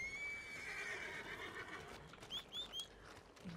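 A horse in the video game Red Dead Redemption 2 gives a long, high whinny followed by a few quick snorting neighs, faint and clear with no talk over it.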